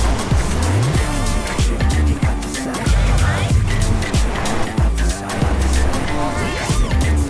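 A Honda HR-V Hybrid is driven hard, with repeated tire squeals over a loud, steady engine and road roar that runs continuously throughout.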